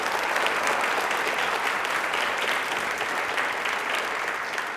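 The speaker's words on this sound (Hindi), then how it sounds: "प्लीज एक बार तालियां जोरदार हो जाए ज्योति मैम के लिए" Steady, dense audience applause fills an indoor studio hall, a sustained wash of many hands clapping at even loudness with no voices on top.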